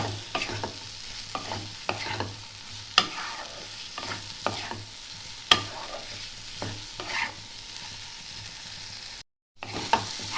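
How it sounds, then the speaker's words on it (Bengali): Potatoes added to spiced masala are stirred in hot oil in a pan for a vegetarian Bengali dish, with a steady sizzle under rhythmic, close scrapes of the spoon and a brief silent gap near the end. "এবার দিয়ে দেবো আলুগুলো, আলুগুলোর সাথে একটু আমি নাড়িয়ে নেব।"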